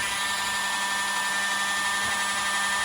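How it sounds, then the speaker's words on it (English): Dremel rotary nail grinder buzzing steadily against a Samoyed's nail during grooming, a continuous high whine held at close range with no talk over it. "So my next step is going to be to turn the dremel on and touch it to a nail"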